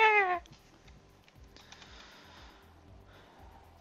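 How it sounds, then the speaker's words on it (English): Cats fighting inside a closet: one loud, sharp yowl bursts out at the start, then the scuffle drops to faint rustles and muffled bumps. "my cats are fighting behind me"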